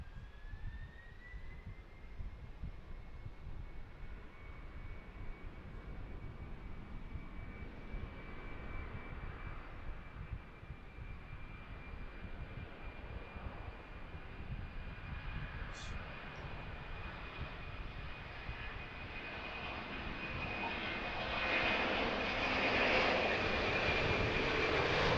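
Cargo jet engines spool up at an airport in Harrisburg, a distant whine rising in pitch over a broad rumble that grows louder toward the end, heard from afar on an evening outdoors.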